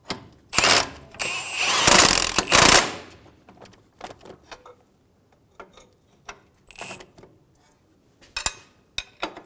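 A power tool tightens strut assembly bolts on a 2003–2008 Honda Pilot. A loud two-second burst of impact-gun rattle comes first, followed by scattered metallic clinks and taps, with a short sharp burst near the end.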